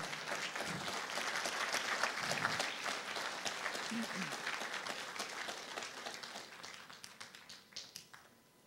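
A church congregation claps strongly at a Christian sermon, sustained crowded clapping that begins at full force and gradually thins and fades toward the end.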